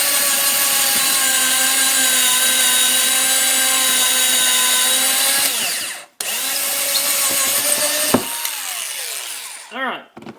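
A power drill bores a pocket hole through wood with a Kreg Jig Jr, a loud steady whine for several seconds, then a brief stop, a second burst and the motor winding down.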